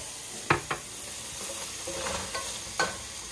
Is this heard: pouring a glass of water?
no